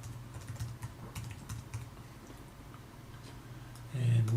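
Typing on a computer keyboard with steady, quick key clicks close by, continuing under a faint low hum, with a louder tonal sound swelling in at the very end.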